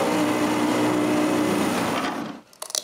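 A power tool cuts a cedar wood plug for filling a hole, a steady high whining buzz running continuously for about two seconds before cutting off, followed by a few faint clicks and handling sounds.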